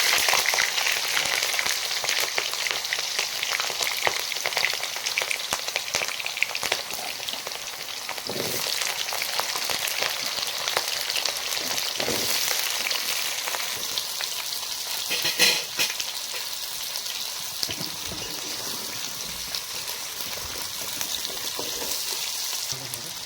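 New potatoes frying in hot oil for a duck meat curry give a steady, dense sizzle that crackles throughout, with occasional louder spits and stirring scrapes; no one speaks.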